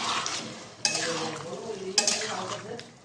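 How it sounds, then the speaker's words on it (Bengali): Cornflour water goes into a pan of frying chilli chicken, giving a close sizzle and bubbling with spoon scrapes and a couple of sharp clinks against the pan; no talk. "এবার এর মধ্যে দিয়ে দিচ্ছি কর্নফ্লাওয়ার দেওয়া জলটা"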